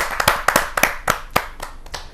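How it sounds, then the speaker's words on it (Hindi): A small audience at a Hindi poets' gathering claps to welcome a poet. About a dozen sharp, close handclaps come in an uneven rhythm over two seconds and thin out toward the end. "मैं जोरदार तालियों के साथ उनका स्वागत करता हूं, डॉक्टर शमशेर जी का।"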